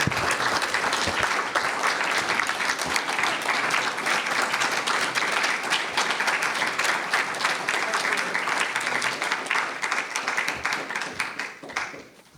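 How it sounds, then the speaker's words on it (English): Sustained audience applause after a literary reading and artist talk, a steady dense wash of many hands clapping at once that holds for about twelve seconds before tapering off at the end. "Let's have another round of applause."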